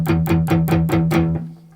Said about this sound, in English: chuggy, palm muted down strums, which sound like this